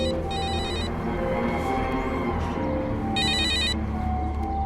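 A telephone rings in two short electronic bursts separated by a pause, over a constant low background hum.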